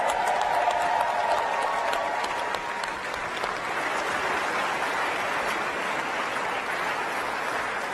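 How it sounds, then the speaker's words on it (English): Sustained applause from a large crowd at the Artemis II astronaut introduction, steady clapping that dips slightly midway and continues at a strong level throughout. "Let's give them another round of applause."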